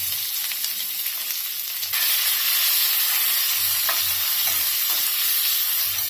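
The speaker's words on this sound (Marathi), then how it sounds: "कांदा आहे ना चांगला लाल होईपर्यंत भाजून घ्यायचा" Onion frying in oil with cumin seeds and curry leaves in a pot, a steady loud sizzle and crackle with occasional stirring knocks, no voices.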